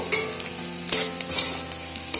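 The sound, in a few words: onions frying in oil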